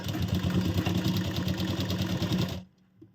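A sewing machine runs fast and steadily while stitching a princess cut deep neck blouse, its needle clattering rhythmically before stopping abruptly near the end.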